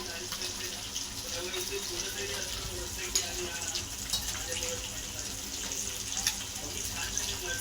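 Mandeli fish frying in a pan of hot oil gives a steady, dense sizzle throughout, with a few sharper pops and crackles rising above it.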